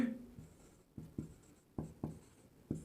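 A pen writes numbers while working a percentage interest maths problem, producing short scratchy strokes and light taps in uneven bursts, close and quiet, with no talking.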